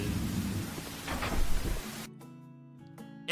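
Steady rain hiss in a video game fills the first two seconds, then cuts off abruptly, leaving quiet tonal game ambience with faint hum.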